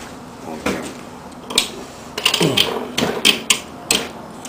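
Bolts being tightened with a hand tool while an axial flux alternator is assembled, a close series of sharp clicks and ratcheting bursts in uneven rhythm.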